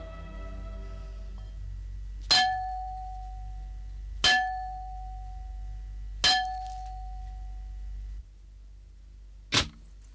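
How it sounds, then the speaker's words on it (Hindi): A large metal bell strikes four times at roughly two-second intervals, each clang ringing out and decaying before the next, over a low steady hum. "तुमने ये घंटा बजाया है?"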